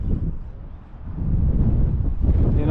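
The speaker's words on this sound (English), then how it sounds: "Okay, so the wind is from the back" Wind blows on open fishing flats and buffets the microphone with a continuous low roar. It dips briefly and then swells louder, with no talking.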